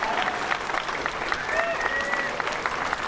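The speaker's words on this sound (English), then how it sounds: "Let's give him a huge round of applause." Audience applause for a Tetris world champion at a competitive Tetris event: a dense, steady crowd clapping that holds at a constant level from start to finish.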